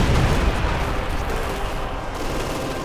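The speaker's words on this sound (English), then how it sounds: "Rockets going in on everything." Rocket artillery salvos pound the battlefield in Company of Heroes 2, a dense, continuous rumble of overlapping blasts and crackling fire that stays loud throughout, with no voices.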